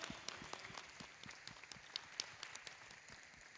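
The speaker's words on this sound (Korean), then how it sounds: "이 시간 우리 모든 것을 응답하실 하나님 앞에 감사의 박수 영광을 올리십시다." A church congregation gives applause of thanks during a Korean evening praise service, soft and somewhat distant clapping from many hands with a few sharper claps, fading slightly toward the end.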